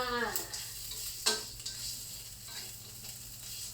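Ingredients for chili paste are dry-roasted in a pan, giving a soft, steady sizzle with occasional scraping stir strokes and light clicks, faint and close, with no talk.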